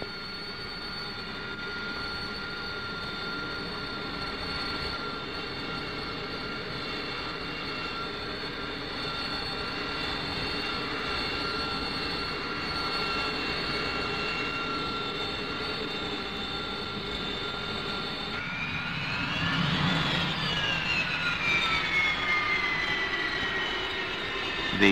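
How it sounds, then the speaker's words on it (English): A steady, loud jet engine roar from a Rolls-Royce-powered Hawker Siddeley AV-8A Harrier V/STOL fighter, with high whining tones, swelling and shifting in pitch near the end; no voices. "the Hawker Siddeley AV-8A Harrier V-stall jet fighter"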